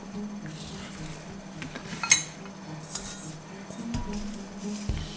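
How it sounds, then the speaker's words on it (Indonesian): A spoon stirring thick coconut milk in a bowl for a sweet potato dessert, soft scraping with a few light clinks of metal against the bowl, close and quiet, with no talking. "Jadi caranya itu kita ambil mangkok dan kita aduk."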